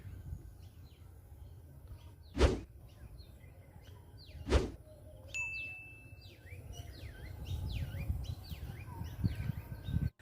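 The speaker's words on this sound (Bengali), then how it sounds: "এখানে কত রকমের পাখির আওয়াজ শুনতে পাবেন আপনি" Assorted birds chirp and call across a quiet village morning, with several sharp metallic dings standing out early and a steady chorus of tweets over low ambient rumble.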